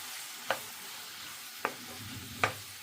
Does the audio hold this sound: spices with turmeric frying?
yes